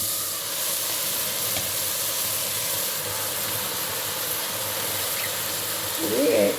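Tomatoes and freshly cleaned gongura leaves cook in a pan, giving a steady, even sizzle and hiss of steam that runs the whole time, swelling slightly near the end.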